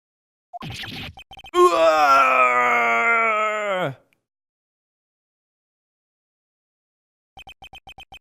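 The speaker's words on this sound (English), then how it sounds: "It's a bone-chilling scream." A long, anguished scream rings out in Phoenix Wright, a drawn-out, harmonically rich wail lasting about two seconds after a short gasping lead-in, loud and close, followed by silence and soft game blips.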